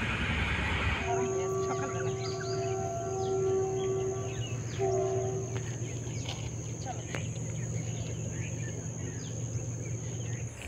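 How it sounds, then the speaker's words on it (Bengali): A distant train crosses on the far side of a river, its long horn-like tones sounding for several seconds over a steady low rumble, then fading into outdoor background noise. "ওই দেখেন নদীর ওই পাড়ে আবার ট্রেন যাচ্ছে"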